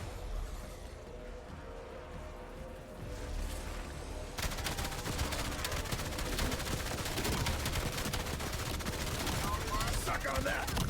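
Submachine gun fire in an online video game, continuous rapid automatic bursts that grow louder and denser midway, with players talking faintly underneath.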